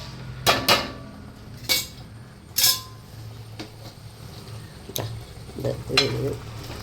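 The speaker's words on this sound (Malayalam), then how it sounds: "നമ്മൾ ഫ്രൈ ചെയ്ത് വച്ചിരിക്കുന്ന ചിക്കനെ ഇതിലോട്ട്" Fried chicken stirred into simmering curry in a pot, with a soft low bubbling and a few sharp clanks and scrapes of a utensil against the pan, close and moderately quiet.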